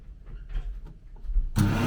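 A French-made hair dryer in a hotel room in Geneva, Switzerland, switches on near the end with a sudden loud, steady whooshing blast of motor and air, after quieter handling noises and faint voices.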